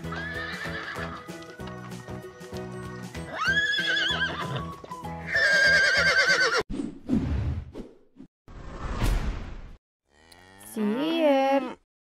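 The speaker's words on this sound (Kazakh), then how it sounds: "Сиыр." A cow moos in one long, loud, drawn-out call, heard alone near the end after a horse whinnies and other farm animal calls.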